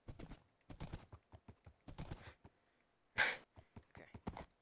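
A horse's hooves clip-clop in a Minecraft-style UHC survival game, a run of short, sharp, evenly spaced clops with a louder burst partway through, heard close and alone.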